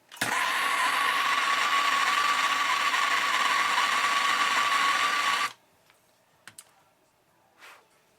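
Ratchet wrench loosening a bolt on the intake manifold of a GM 3100 V6 engine in a 1995 Grand Prix, a loud continuous buzzing clatter for about five seconds, then a few faint clicks and knocks.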